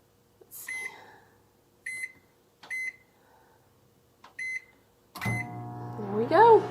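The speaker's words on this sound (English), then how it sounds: "while my microwave is running with the cleaning solution" A household microwave oven runs with a cleaning solution inside. Several separate beeps from its control panel are followed by the steady, close hum of the oven running.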